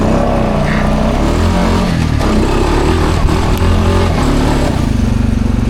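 A quad ATV engine revs hard and continuously, loud and close, its pitch rising and falling through the whole stretch with no talking.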